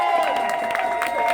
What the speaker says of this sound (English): One more round of applause for Jem, y'all.